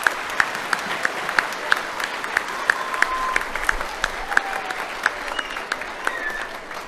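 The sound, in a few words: audience applause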